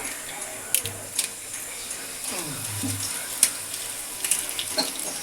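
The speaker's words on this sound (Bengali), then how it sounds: "মাছ ভাজার তেলের মধ্যেই আমি জিরে ফোড়ন দিয়ে দিচ্ছি" Cumin seeds and dried chilies sizzle and crackle in hot oil, a steady frying hiss dotted with sharp pops and a few clinks nearby.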